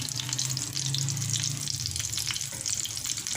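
Chicken omelette kebabs fry in a covered pan, giving a steady, dense sizzle and hiss with faint crackles throughout and no talking.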